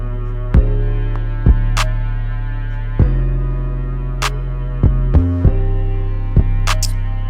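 Trap beat built in Logic Pro X, a deep booming 808 bass paired with a punchy kick, hitting in a sparse syncopated pattern with long sustained low tails and a few bright accents, loud and clean with no voices.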